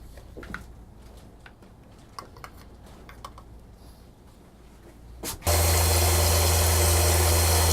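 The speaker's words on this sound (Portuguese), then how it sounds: "A própria máquina de mistura." Pasta dough mixing machine running, preceded by quiet handling clicks and knocks, then switching on abruptly to a loud steady motor hum that continues to the end.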